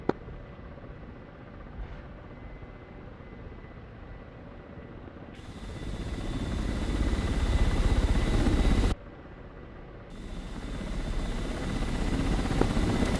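A KA-50 helicopter in the DCS World flight sim produces a continuous rotor and engine roar that swells louder partway through, cuts back abruptly, then builds again, with no speech.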